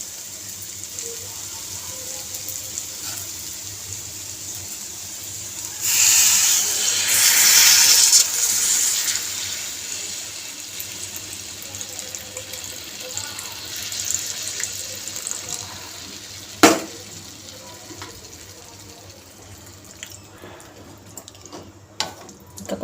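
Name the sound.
tamarind juice being poured into bottle gourd curry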